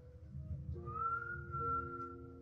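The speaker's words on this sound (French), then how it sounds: "Pourquoi il siffle?" Person whistling in a paranormal, creepy setting: steady sustained tones that slide upward and hold, with a second lower line joining, fairly close over a low rumbling background with no talk.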